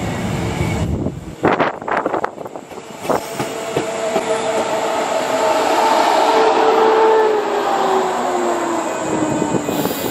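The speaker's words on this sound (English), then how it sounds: "So here's the train that we're going to take." A train pulls into a station ahead of a cricket match, a few sharp clanks and clicks early, then a loud steady rumble and rising brake squeal as it rolls in and slows, with no talk.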